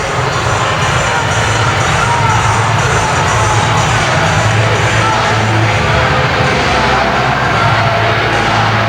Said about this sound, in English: You can hear the crowd reacting right now